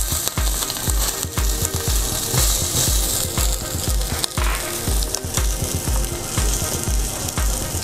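Meat fries in a pan at a butcher shop with a loud, constant sizzle, punctuated by a rapid run of regular clicking and scraping knocks, close up and with no voices.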